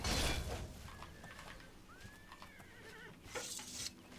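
A horse in the game Oblivion whinnies once, a wavering neigh rising and trembling over a quiet background, with brief clattery noises before and after.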